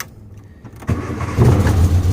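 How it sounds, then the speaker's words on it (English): A 1963 Austin Healey Sprite engine cranks briefly, then catches and fires into a steady, throaty idle that swells louder after a moment, close and with no talking. "Let me go ahead and start her up so you can see how she starts"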